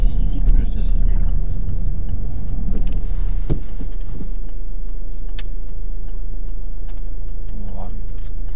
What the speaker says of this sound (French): Je vous laisse immobiliser le véhicule.